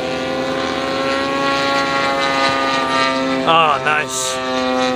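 An RC model P-40 warplane flies at a large RC airshow, its propeller engine droning steadily with a shifting pitch as it passes, while a voice briefly comments near the end.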